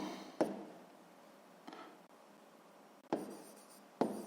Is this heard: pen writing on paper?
yes